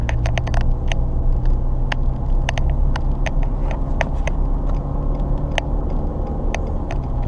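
A Ford F150 pickup towing a 6200 lb trailer on a wet road has its tires spinning, a heavy low engine rumble under sharp repeated clicks and ticks that come in irregular bursts, with no talk.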